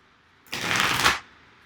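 A deck of Magic: The Gathering cards is shuffled once in a single close, crisp riffling burst lasting under a second, with no talking over it.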